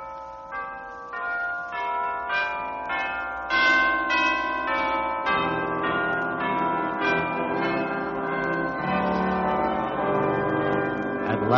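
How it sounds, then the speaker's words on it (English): Church chimes ring out in a series of bright, resonant bell strikes, overlapping tones sustaining and layering into a rich, ringing wash. "At last, the glorious chimes were ringing."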